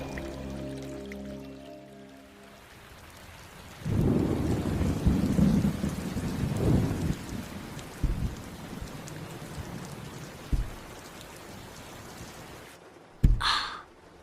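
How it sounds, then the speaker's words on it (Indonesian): Steady rain hisses throughout while a deep, loud thunder rumble rolls in and lingers for several seconds, followed by softer distant grumbles and a sharp brief crack near the end. "Kapan sih hujannya berhenti? Aku mau main keluar."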